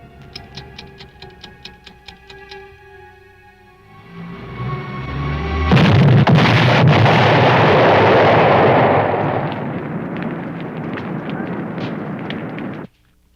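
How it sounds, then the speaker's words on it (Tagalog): A vehicle explodes in a Filipino film, a sudden loud blast swelling into a long roaring rumble after a run of rapid ticking, then the roar fading before cutting off abruptly. "Ang papat mama mo, sumabog ang sasakyan nila."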